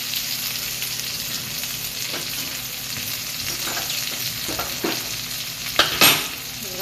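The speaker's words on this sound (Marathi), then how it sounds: "असं आपण लसूण 2 मिनिटं हलवून घेऊया" Garlic stirred and frying in a pan while cooking a cluster bean (gavar) vegetable dish, giving a steady close sizzle with occasional scraping stir clicks and a louder clatter near the end; no talk.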